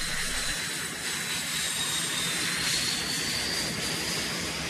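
Gulf War military bombing jets in flight, a steady broad roar of engines that holds loud and continuous throughout with no speech over it.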